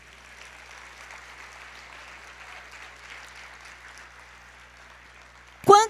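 A church congregation claps steadily for several seconds, a dense, moderate wash of hands, before a voice suddenly cuts in loudly at the very end.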